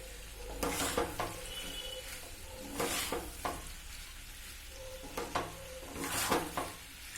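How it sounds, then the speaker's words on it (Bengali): Ginger paste and Kashmiri chilli powder fry in a pan for aloo dum, stirred with a spoon. About six scraping strokes rise above a quiet, steady sizzle, each one close and distinct. "এবার এটা কষানোর পালা, কষিয়ে নিই।"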